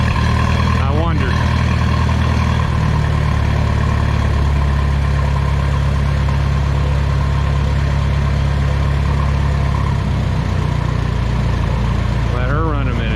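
A rebuilt Minneapolis Moline A4T gas tractor engine idling after a flooded start, a loud, steady low rumble running throughout with brief voices near the start and end.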